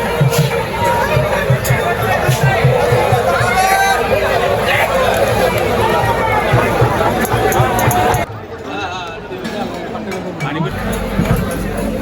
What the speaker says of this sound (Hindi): आप भीड़ देख सकते हैं इस वक्त कुंभ के बाद जो भीड़ है यहाँ पे वाराणसी में